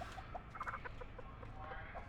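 A chicken in The Texas Chain Saw Massacre game clucks in a few short, separate bursts that sound faint and somewhat distant over low background hum.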